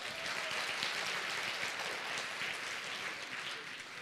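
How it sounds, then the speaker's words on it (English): An audience applauds Joel at a live talk, with steady, dense clapping from many hands that stays loud and even for the full four seconds. "let's give a round of applause to Joel"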